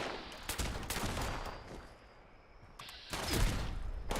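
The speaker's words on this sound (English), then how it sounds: "They're just shooting." Bursts of gunfire from scripted enemies in the video game Fallout 76, several sharp volleys and rapid machine-gun runs at moderate distance, with a quieter lull in the middle before the shooting picks up again.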